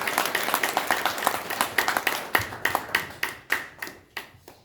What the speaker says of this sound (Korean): 힘찬 박수를 보내십시다.